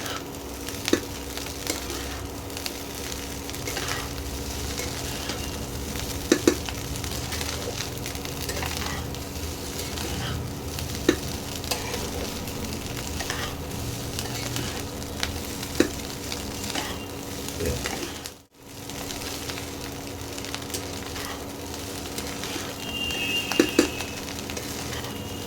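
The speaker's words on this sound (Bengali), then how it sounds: "এবার এটা ভালো করে মিশিয়ে দেবো।" Egg chicken fried rice with a spoon of ghee sizzles in a hot pan as it is stirred and tossed, a steady close frying hiss with occasional spatula knocks against the pan and a brief pause midway.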